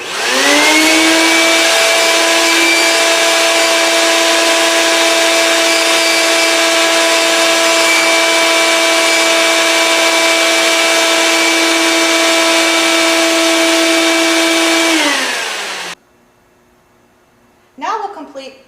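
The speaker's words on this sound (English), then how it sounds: "We take the vacuum and you clean out all of the open surfaces." Vacuum cleaner sucking debris out of the cutting chamber of a screenless bi-cutter granulator: a loud, steady whine with strong tonal harmonics lasting about fifteen seconds, then it cuts off and a short hose scrape follows.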